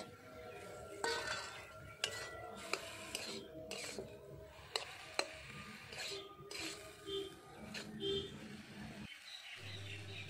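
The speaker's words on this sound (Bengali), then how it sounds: "ভালো করে নাড়াচাড়া করে দিয়ে দেবো ভেজে রাখা চিংড়ি মাছ" A spatula scrapes and clinks against a pot as fried prawns are stirred into cooking bathua greens, giving repeated irregular knocks and scrapes over a low background of kitchen noise, with a brief quiet pause near the end.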